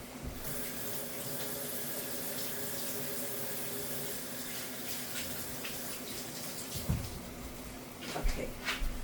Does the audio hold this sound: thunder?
no